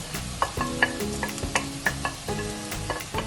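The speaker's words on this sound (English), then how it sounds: "I'm gonna add the garlic and I'm gonna add the chili" Garlic and chili sizzling among softened onions in a pan, a close bright hiss punctuated by rhythmic clanking stirs of a utensil against the pan, several strokes in quick succession, no voices.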